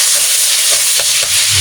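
Onion sizzles in a pot of pork tinola, giving a loud, dense, steady hiss with a few brief stirring scrapes and no voices.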